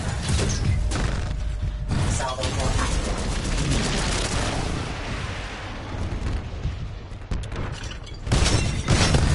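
Sustained rocket fire and explosions on the Colony map of a sci-fi shooter, a continuous loud barrage of thumping blasts and rattling gunfire, with talk layered over the din.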